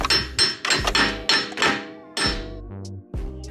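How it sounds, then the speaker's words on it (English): Sharp metallic hammer blows driving a ball joint into a control arm on a 2023 Toyota GR86, about a dozen close, loud strikes in an uneven rhythm with brief ringing pauses. "Now all we gotta do is just hammer it down."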